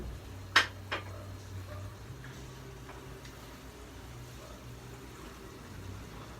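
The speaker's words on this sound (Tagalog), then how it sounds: "Pwede na nating ihulog yung patatas para lumambot." Two quick clattering knocks of potatoes dropping into a boiling pot of chicken curry, followed by a low steady hum and quiet kitchen background.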